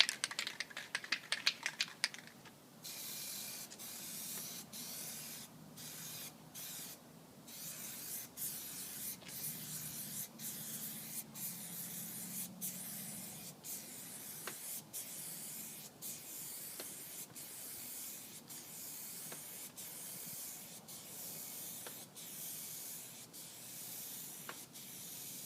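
Steady hiss of a spray can laying Plasti Dip coats over stripes on an SRT-4 car, a continuous close spray broken by a burst of short puffs at the start and then faint regular pauses between passes, with no talk.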